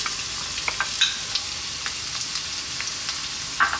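Garlic and onions frying in sunflower oil over above-medium heat for vegan garlic fried rice: a steady close hiss of sizzling with scattered small pops and crackles, no voices.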